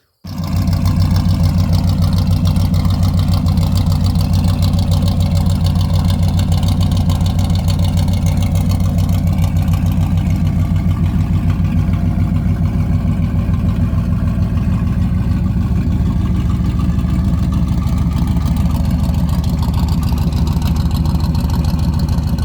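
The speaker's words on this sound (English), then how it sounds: "I have no problems with the exhaust right now. It's pretty loud." A loud, steady V8-style engine rumble from a 1969 Dodge Charger, deep, throaty exhaust drone holding constant at idle for the whole stretch with no talking.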